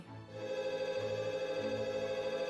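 A train signal in the video game Trails through Daybreak rings like a telephone, a quiet, steady, rapidly trilling electronic tone that continues without a break.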